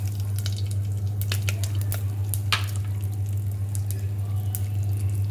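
Fennel seeds splutter in hot oil alongside cloves and asafoetida while a mint rice dish is being made. The light, scattered crackles and pops sit over a steady low hum from a stove or fan.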